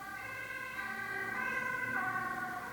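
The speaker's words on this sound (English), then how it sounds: "Oh, there's an ambulance going through." An ambulance siren wails steadily in the distance as it passes through, its rising and falling tones heard alone at moderate loudness.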